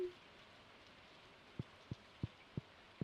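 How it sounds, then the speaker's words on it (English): Rain drums on the metal roof of a trailer in the Stardew Valley game. A faint, steady patter is broken by five soft, evenly spaced thuds of heavier drops in the second half. "The raindrops are really loud on the metal roof of our trailer."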